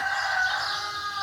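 Chickens squawk and scream loudly in a continuous, overlapping chorus of shrill calls.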